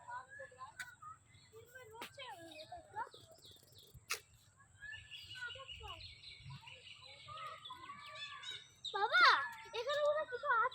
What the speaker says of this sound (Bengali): এই পাখির আওয়াজগুলো শোনার জন্য এখানে আসা।